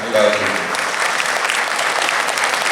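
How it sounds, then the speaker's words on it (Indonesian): Attendees at a municipal training opening in Malang applaud, with a voice briefly heard at the start before steady, full hall clapping carries on alone. "Tepuk tangan"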